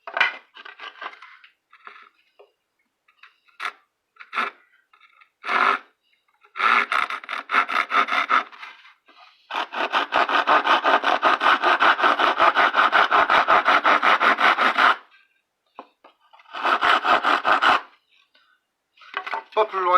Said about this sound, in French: Pas à percer, mais à scier jusque dans le milieu du trou.